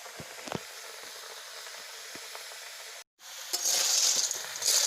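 Snails stir-fried in a kadai, a continuous hiss of frying with scattered clicks of stirring, then a brief cut and a louder, brighter sizzle as cooking goes on, close by with no talking.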